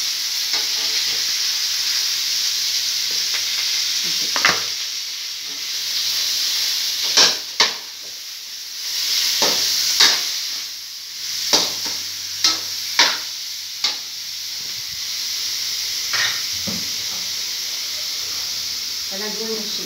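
Ground pork fries in a pan with a steady bright sizzle, broken by repeated sharp spatula scrapes and knocks, while a person talks over the cooking.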